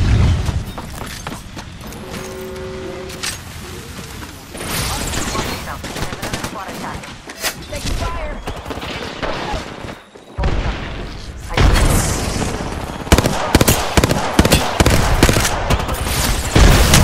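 Rapid bursts of video game gunfire in a team shooter match, loud and repeated with booming impacts, under intermittent voice callouts and game announcer lines.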